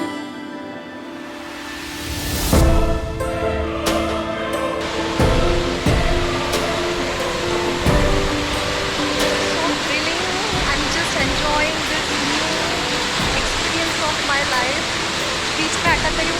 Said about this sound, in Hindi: ये जो बहुत बड़ा झरना ऊपर से आ रहा है